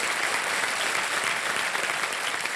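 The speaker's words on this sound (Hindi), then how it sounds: "मैं चाहता हूं कि जोरदार तालियां बज जाए" Loud, dense applause from a studio audience on a TV quiz show fills the whole stretch, steady and unbroken, with no voices over it.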